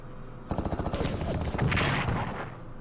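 Rapid rhythmic volley of artillery fire in the WWII strategy game Strategic Command, a quick string of loud thumping shots building into a sustained rumbling barrage.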